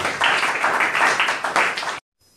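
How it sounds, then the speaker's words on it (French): A church congregation at an evangelical service applauds together in a dense, steady burst of clapping that swells slightly, then stops abruptly after about two seconds. "Acclamons pour la parole de Dieu"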